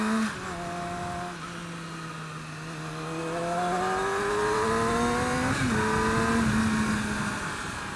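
A 2017 Yamaha R6 motorcycle engine on the move, its tone rising smoothly as the throttle opens, easing briefly, then climbing again to a steady higher pitch, close and fairly loud.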